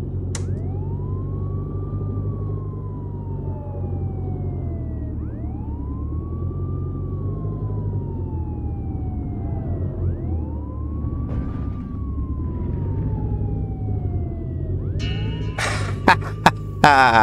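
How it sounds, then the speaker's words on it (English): A police car siren in the video game Contraband Police wails in slow rising and falling sweeps, cycling repeatedly over a low engine drone, with a few sharp clicks near the end. "We'll turn the siren off."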